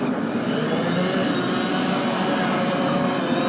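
A DJI camera drone's motors whir loudly and close as it lifts off, a continuous dense buzzing hum with no talk over it.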